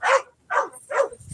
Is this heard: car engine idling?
no